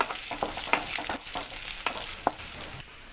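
Onions, curry leaves and turmeric powder being stirred in a frying pan, a steady close sizzle broken by repeated soft scraping strokes of the spoon, with no voices.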